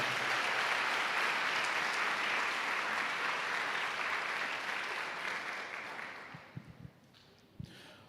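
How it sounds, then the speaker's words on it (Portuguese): A church congregation applauds loudly and steadily for about six seconds, then the clapping thins out and fades into a few scattered claps and quiet room noise. "aplauda bem forte a palavra de Deus"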